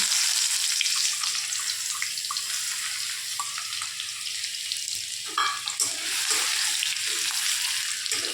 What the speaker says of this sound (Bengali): এবার তেলের মধ্যে রসুনটা হালকা করে নেড়ে নিতে হবে।